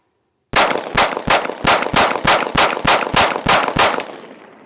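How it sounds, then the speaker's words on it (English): A KOR FX-9 RP 9mm pistol fires at a cardboard target: about ten loud, close gunshots in a steady, rapid string, with each crack ringing out briefly before the next. The echo fades after the last shot, and no one talks. "this is the last 18 rounds of the first 150 rounds through the gun. So I have 1 in the pipe, 17 in the mag"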